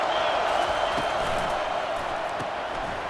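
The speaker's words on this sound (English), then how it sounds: "This crowd bringing an ear-splitting welcome to their visitors." A simulated stadium crowd in the NCAA 25 college football video game, Florida against Florida State, roars as a steady, even wash of cheering noise with no break.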